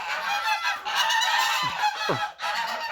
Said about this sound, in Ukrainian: ще йду набирати гуся